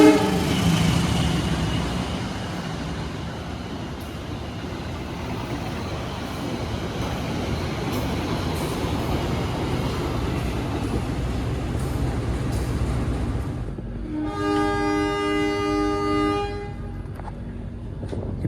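A GMR YK Eksekutif passenger train leaves Gombong station in Kebumen, Central Java, with a steady rolling rumble, then a long bright horn blast near the end.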